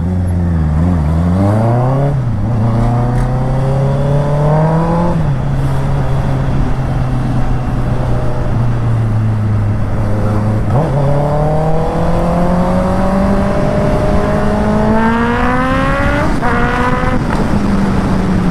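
A 2023 Honda CB650R motorcycle engine revs up and down repeatedly, pitch sweeping high then dropping back to a loud idle, close and continuous throughout.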